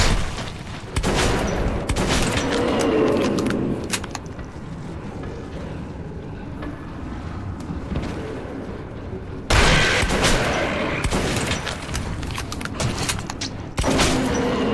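Bursts of gunfire from the shooter game Metro 2033 ring out loud and dense, with repeated volleys and booming shots separated by brief lulls and a low rumbling background.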